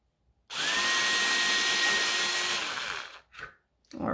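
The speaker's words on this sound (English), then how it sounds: "I believe I'm just going to come through the back, drill a little hole." A power drill bores a hole through the back of a fireplace, a loud, steady high-pitched whine lasting about two and a half seconds before cutting off, followed by a couple of faint clicks and bumps.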